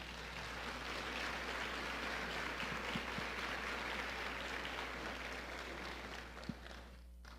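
Congregation applauding inside a church during a sermon, a steady broadband wash of clapping that holds at an even level throughout before tapering off at the end.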